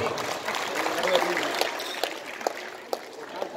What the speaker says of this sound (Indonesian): Aplaus dulu untuk Bapak Ibu.